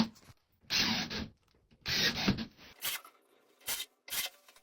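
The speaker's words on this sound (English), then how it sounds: "pre-drill for the screws, put the screws in" Several bursts of grinding, buzzing drill or driver noise driving screws into a door hinge, each a second or so long, separated by short pauses; close and fairly loud with no talking.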